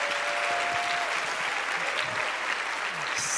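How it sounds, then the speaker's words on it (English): An audience at a keynote talk claps steadily in a full, even round of applause that holds at a constant level throughout, with a few faint voices mixed in. "Can we have another round of applause for Tanaya?"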